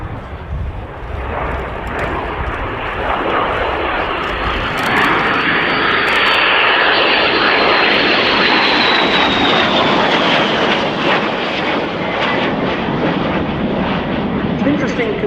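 A de Havilland Vampire twin-boom jet flies past at an air display, its engine swelling into a loud, broad roar that peaks mid-pass and lingers as it recedes.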